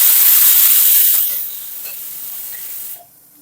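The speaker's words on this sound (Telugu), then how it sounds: "ఆవాలు చిట్పట్లు ఆడిన తర్వాత ఎండుమిరపకాయలు వేసేద్దాం." Dried red chillies hit hot oil already holding popped mustard seeds, giving a loud, close hiss that fades steadily over a few seconds.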